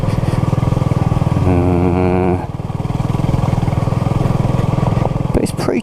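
Honda CB250RS 250cc single-cylinder motorcycle ridden on a green lane, a loud close thumping exhaust pulse with a brief rise in revs, under a rider's talk.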